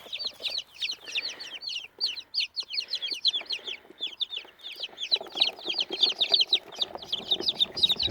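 Chicks peeping rapidly in dense high-pitched bursts, close and continuous, with a hen's lower clucking joining toward the end.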